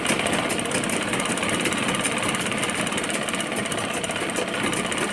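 Sewing machine stitching the seam of a lehenga blouse, a steady continuous mechanical whir and rapid needle clatter at close range, running without pause throughout with no talking.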